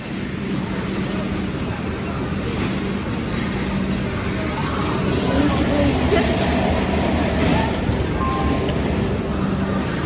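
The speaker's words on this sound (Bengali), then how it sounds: "ট্রেন ছাড়বে এবার।" The Howrah–Barbil Jan Shatabdi Express train pulls away with a steady, continuous rumble of rolling carriages. The noise swells a little partway through, and faint voices sit underneath it.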